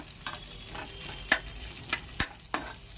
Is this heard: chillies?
yes